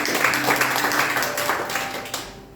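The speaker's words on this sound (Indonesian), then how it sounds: "Kasih tepuk tangan dulu buat Tuhan Yesus." A church congregation claps and applauds together during a Sunday worship service, a fairly soft spread of hands fading out after a couple of seconds.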